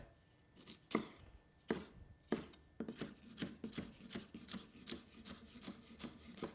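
Knife dicing a large red pepper on a board, crisp close chops that begin spaced and irregular and then settle into a quicker steady rhythm, with no talking.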